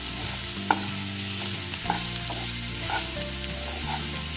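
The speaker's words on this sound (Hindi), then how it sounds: "अब मैं ये बेसन डाल रही हूँ।" Gram flour roasting and being stirred in a pan for onion kachori, a soft continuous sizzle with occasional light spoon taps, close and steady with no talk.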